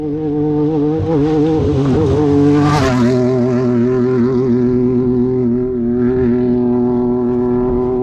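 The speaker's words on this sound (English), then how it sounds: "You can really just hear with the RPM, Kelly's kind of building his confidence" An off-road race car engine revs hard in the desert, loud and close throughout, its pitch swelling upward then sliding into a steady high drone, with no voices over it.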